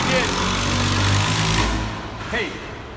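A power drill runs at a tiny home build site during plumbing work, a loud continuous motor whine that holds steady, then dips near the end.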